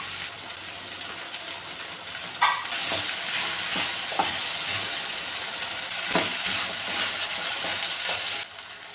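Potato pieces tipped into a sautéing onion-and-spice mixture for an idiyappam potato stew, then stirred: steady close sizzle with a sharp burst as they land and repeated spoon scrapes and clacks against the pan, no voices.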